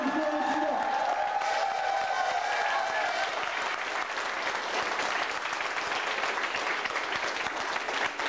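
Audience applause fills the space, dense and steady, clapping from many hands at moderate distance. A voice talks briefly at the start before the clapping carries on alone.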